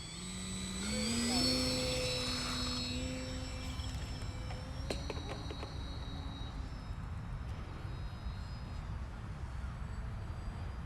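An FT Freedom Fox V2 RC plane on its maiden flight spins up a steady electric motor whine that rises in pitch as it takes off left to right, loud and close at first and then holding under a faint background hum.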